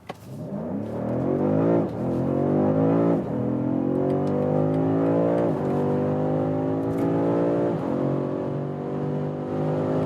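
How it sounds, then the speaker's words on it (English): A BMW 5-Series sedan accelerating hard from about 30 km/h, its engine note rising loud and close through several upshifts, each gear change marked by a brief dip before the revs climb again. "We're starting at about 30 kilometers an hour and let the hell out of this vehicle."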